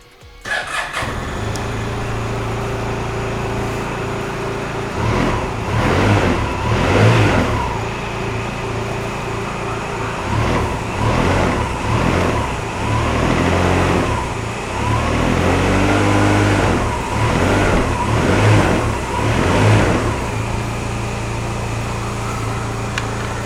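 A Honda Silverwing motorcycle with 20,896 miles cranks and fires up, then idles steadily with several throttle blips rising and falling, close and loud throughout with no talking.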